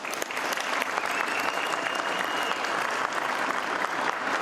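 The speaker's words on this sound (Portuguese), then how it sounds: "vamos bater uma salva de palmas para você, Gleice." A large crowd at a political speech during a visit to the Renault factory in Brazil gives a strong, sustained round of applause, dense clapping filling the space evenly from start to finish.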